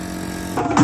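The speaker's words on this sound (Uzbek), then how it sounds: "Bizda tabiiy shovqin bilan ustalar ishlayapti. Kompressorda." A steady mechanical hum of an air compressor used by workmen drones briefly before a short burst of other noise cuts in.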